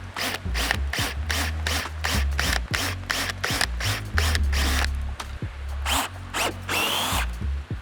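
A power drill taps repeatedly into a jet ski seat while Pro Guarding seat straps are installed, giving a rapid string of short close whirring bursts with brief pauses between them.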